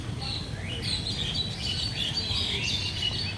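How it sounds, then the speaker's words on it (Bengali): Many birds chirp and tweet in a tree during rainy, flooded weather in Jamshedpur, a continuous busy twittering over a low, steady background rumble. "আর কি পাখি ডাকছে এই গাছটাতে"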